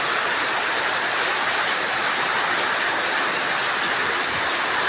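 Heavy afternoon rain pours down in Kidapawan as a constant, dense hiss with no break or voices.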